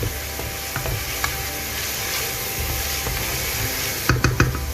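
Onion paste frying in a pan while being stirred gives a steady sizzle with intermittent scraping strokes, and a few sharper stirring clatters come close together near the end.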